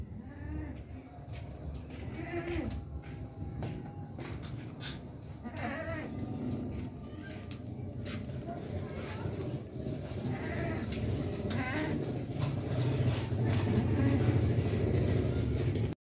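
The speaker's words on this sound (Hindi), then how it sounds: "भाई ये बकरा देखें, बहुत ज़बरदस्त बकरा है, बगैर सींगों के बकरा है" Goats, including a hornless buck, bleat repeatedly over a busy livestock setting, calls rising above a constant murmur of background noise and bustle.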